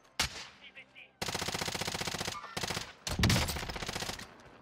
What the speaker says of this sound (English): Who's shooting down here?